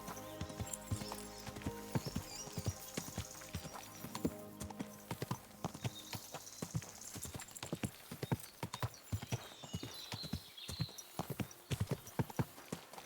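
Horse hooves clip-clop in the video game Kingdom Come: Deliverance II, a brisk, irregular run of sharp hoofbeats close by, with an occasional whinny over a quiet background.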